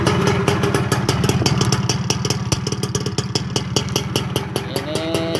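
A Yamaha RX King two-stroke motorcycle fitted with an RC CDI runs after a kick start, its engine puttering close and loud in a fast, uneven popping rhythm with a few revs near the end.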